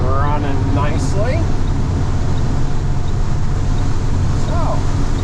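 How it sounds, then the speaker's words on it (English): A truck engine drones steadily while driving on a rainy day, with wind noise and a voice talking over it. "Truck is running nicely."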